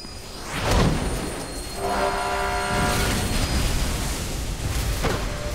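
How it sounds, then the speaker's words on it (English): Train rumbling through a tunnel in the game Mirror's Edge, a loud, steady roar with a sustained horn blast in the middle and no talking. "There's a train coming behind you."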